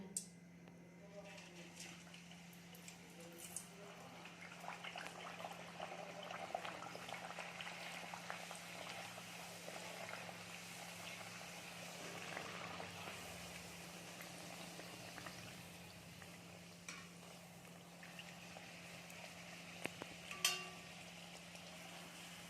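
Coriander-leaf kachoris deep-frying in hot oil give off a steady, soft bubbling hiss throughout, fairly quiet and continuous, with a low hum in the background and an occasional faint clink.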